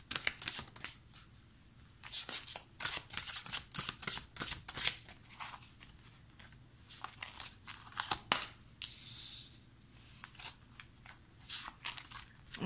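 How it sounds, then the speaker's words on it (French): Oracle cards being shuffled and drawn, crisp riffling and sliding card sounds in repeated bursts, close and clear, with brief pauses between handfuls. "Je vais tirer 2 cartes."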